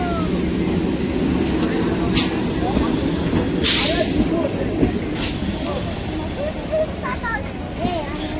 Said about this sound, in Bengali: একটা ট্রেন ঢুকছে, শিয়ালদার দিকে যাবে